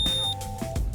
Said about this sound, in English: turn the battery on by pressing the button and wait to hear a loud beeping sound